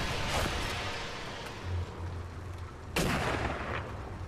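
Gunfire in the VR shooter game Sniper Elite VR, two heavy booming shots about two and a half seconds apart, each with a rumbling tail over steady background game noise.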